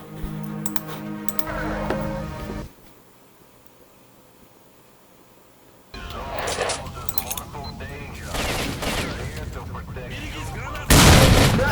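Grenade blasts and gunfire crack out in the video game Stalker: Shadow of Chernobyl, with loud bursts and rattling shots, a quiet lull in the middle, and a heavy explosion near the end.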